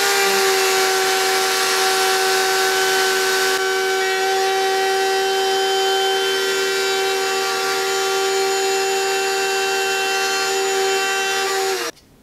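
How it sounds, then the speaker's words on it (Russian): A power tool cuts a chamfer into the wooden shell of a handmade shaman drum, a loud steady whine with sustained tones running unbroken for about twelve seconds before stopping abruptly. "Начинаем снимать фаску на обечайке."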